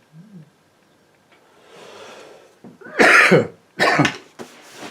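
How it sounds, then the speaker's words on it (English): Two harsh, close coughs, the first longer and the second a beat later, after a quiet stretch with faint rustling. "Oh, excuse me, coughing."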